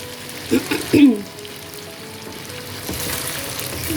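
Chicken karahi sizzles and fries steadily in a pan as fresh tomatoes are added, a continuous crackling hiss with a brief speaking voice near the start.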